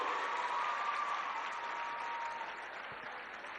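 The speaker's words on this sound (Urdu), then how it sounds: "بڑی اچھی تالیاں بجا رہے ہو" Children's applause fills the space, a dense steady clapping from a crowd that gradually tapers off.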